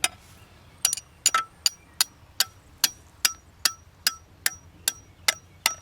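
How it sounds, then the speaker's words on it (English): A claw hammer drives field stakes into the ground for a goose flag setup, striking in steady sharp blows, about a dozen evenly spaced metallic knocks, close and clear over quiet outdoor background. "Bring yourself out a claw hammer, drive these things in, help you pop them out."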